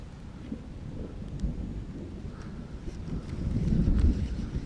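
Low rumbling thunder from a lightning storm, rolling faintly in the distance and swelling slightly near the end, with broadband rain or wind noise underneath and no talking.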